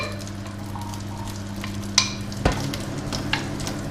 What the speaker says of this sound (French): je vais faire sauter mes asperges quelques minutes dans un petit peu de beurre et d'huile